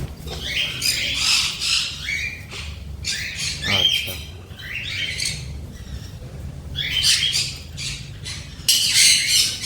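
Conures and cockatiels at a bird farm give repeated loud, harsh squawks and shrill calls in overlapping bursts, several birds close by calling over a low background murmur.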